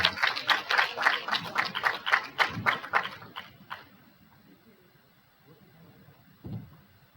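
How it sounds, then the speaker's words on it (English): A small group claps in quick, fairly even bursts for about four seconds at a livestreamed gathering, then the clapping fades out, leaving quiet room noise and a brief late thump. "Give her hand and say with great applause"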